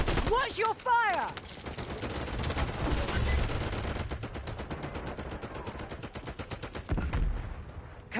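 Rapid automatic gunfire crackles in Call of Duty Warzone, dense bursts of shots, some close and sharp, rolling on over a chaotic battlefield din, with a brief voice near the start.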